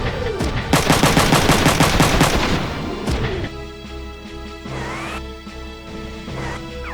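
Loud rapid gunfire from the video game Front Mission 3, a fast rattling burst of machine-gun shots lasting a few seconds, then dropping to quieter game effects and music hum.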